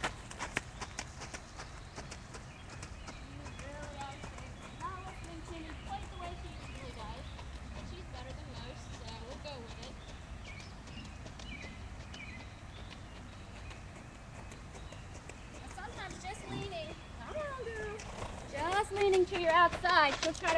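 Horse hooves clip-clop in a steady trotting rhythm under continuous talk as the rider posts in the saddle while the horse works around a circle in a farm arena, with a brief louder burst near the end.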